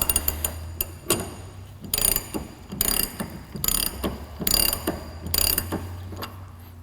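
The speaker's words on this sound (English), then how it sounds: "Try it with a ratchet first" Ratchet wrench turning on a Ford Fox Body front strut during a coil spring install, rapid clicking in repeated bursts close up, with short pauses between strokes and no talking.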